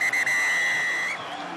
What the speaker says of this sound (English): The final whistle blows at the Brewery Field.